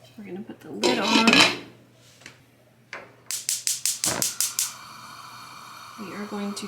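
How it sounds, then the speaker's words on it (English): A metal lid is set onto a cooking pot holding elderberry syrup ingredients, giving a clatter and scrape followed by a quick run of rattling taps as it settles. A voice speaks briefly near the end. "We're going to put the lid on."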